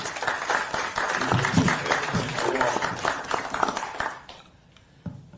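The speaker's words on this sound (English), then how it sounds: "if you would clap it up for yourselves and the work that you do" An audience at a Milwaukee County community violence intervention event claps for itself, a sustained crowd patter for about four seconds that fades to near silence, with a soft voice or two in the background.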